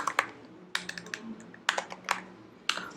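Code being typed on a computer keyboard while writing a Swift function in an Xcode 11 playground: quick bursts of crisp key clicks in several separated clusters, close and alone with no talk.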